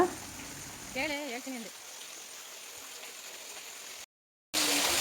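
Water flows steadily at the source of the Brahmi river by the Kamandala Ganapati temple, a constant close rushing wash with a voice briefly over it and a short dropout near the end.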